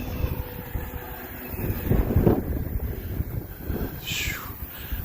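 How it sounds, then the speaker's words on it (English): Gusty wind buffets the microphone at an outdoor RC flying field where an FMS Pitts V2 1400mm model plane is about to fly, with steady low rumbling, swelling surges, and a brief faint higher whine near the end. "The wind was tossing it around pretty good there"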